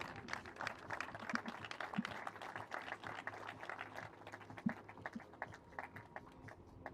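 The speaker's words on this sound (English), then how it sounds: "All the crowd is congratulating Alessandro Souza" Crowd applauding athletes at a men's trap shooting final at the ISSF World Cup in Lima, Peru, a faint, steady patter of many hands clapping outdoors, distant and continuous throughout.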